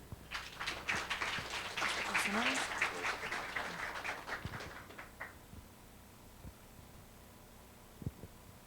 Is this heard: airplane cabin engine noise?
no